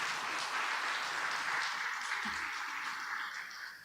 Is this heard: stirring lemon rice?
no